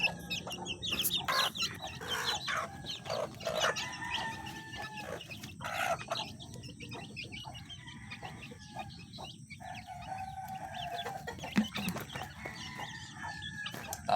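Backyard chickens, hens with chicks, cluck and chatter while feeding on Integra 1 feed mixed with crushed corn, with soft scattered clucks, brief calls and occasional louder squawks at moderate distance.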